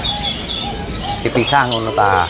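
Soft, repeated cooing of zebra doves at a bird market rises over steady background chatter, with a person speaking briefly near the end.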